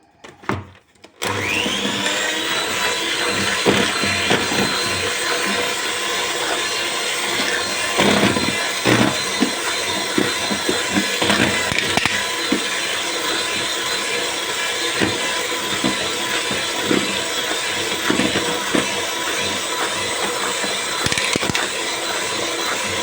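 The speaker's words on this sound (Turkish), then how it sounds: "Ve tekrar çırpıyorum kekime." An electric mixer whisks orange cake batter after baking powder is added, its motor whirring steadily and loudly close by for about twenty seconds, with slight shifts in pitch and scraping as the beaters move through the bowl.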